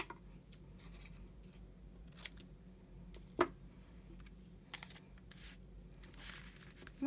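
Scissors trimming paper for a handmade journal cover, quiet intermittent snips and light paper rustles close up in a calm room, one sharper click standing out midway.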